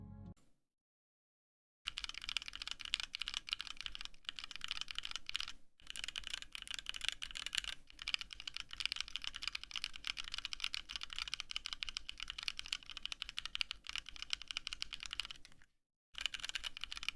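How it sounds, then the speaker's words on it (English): Someone types on a HyperX keyboard fitted with rubber keycaps, producing a rapid, steady stream of soft, close key clicks after a brief silence, with a couple of short pauses along the way. "So that's what the rubber keycaps sound like."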